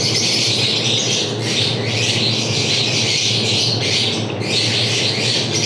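A male cockatiel squawks in a loud, harsh, rasping series of calls, close and nearly continuous, with short breaks between bursts.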